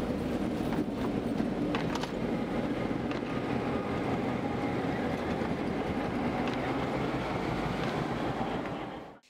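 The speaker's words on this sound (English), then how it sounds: "I started with a ride on the train that circles the granite dome known as Stone Mountain" A train rumbles steadily along the rails circling Stone Mountain, Georgia, with a continuous rolling roar and occasional clacks, heard from on board.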